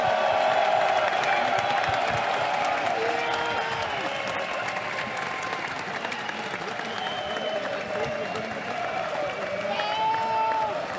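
Arena crowd in Hamburg applauding and cheering the G2 Esports Spring Split champions at a League of Legends final, a dense sustained roar of clapping and whoops, with scattered shouts and a voice over the top.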